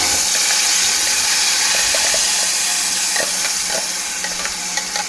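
A paste of onion, tomato, chili and garlic fries loudly in a pan, with a close, continuous sizzle and scattered small pops. No one speaks.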